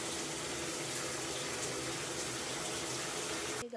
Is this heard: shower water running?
yes